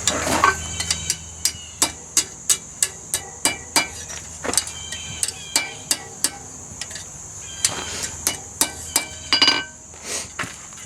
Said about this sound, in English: all this will kind of lengthen once I hammer it out flat